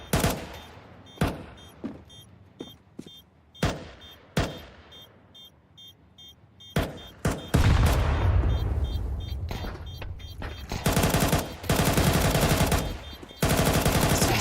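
Sharp pistol shots crack out from an esports match of a tactical shooter in the European Pro League, spaced single reports at first, then a dense burst of rapid overlapping gunfire and booms, loud and close.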